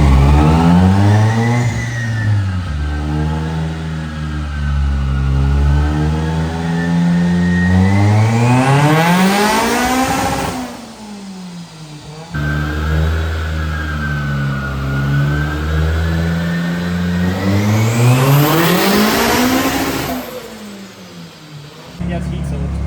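A turbocharged Toyota 3SGE engine in a small drift car revs hard on a dyno, climbing steadily in two long pulls to a high-pitched scream before dropping off, loud and close, with talk over it.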